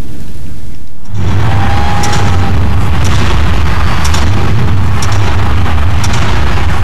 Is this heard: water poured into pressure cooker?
no